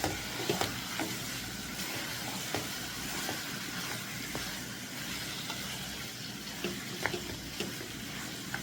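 Chicken marinated in curry powder frying in a pot gives a steady, close sizzle, with occasional soft clicks and scrapes of stirring over it.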